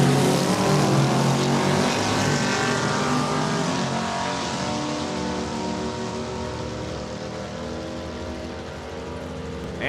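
Drag race cars at Saskatchewan International Raceway in Saskatoon during a time trial, a loud sustained engine roar that holds steady and slowly fades, with no talk over it.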